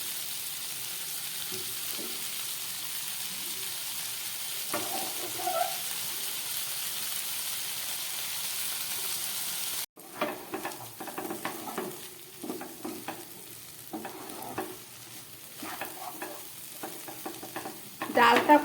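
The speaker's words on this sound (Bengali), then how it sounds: "ডালটা কয়েক সেকেন্ড পেঁয়াজের সঙ্গে ভেজে নিলাম।" Boiled dal frying with onions in a pan for egg tarka dal, a steady faint hiss that gives way to louder stirring and scraping with sputtering sizzle, no voices.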